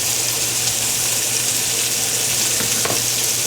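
Meat browning in a hot frying pan for tortellini soup, a steady close sizzle with occasional stirring scrapes as it is tossed around, no speech.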